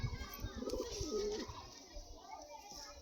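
Pigeons coo softly at close range in a loft, a low warbling call rising and falling a couple of times, with someone talking over much of it.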